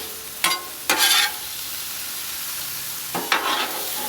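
Two metal spatulas scraping and tossing lo mein on a Blackstone 22-inch griddle, a few short clattering bursts over a steady low sizzle.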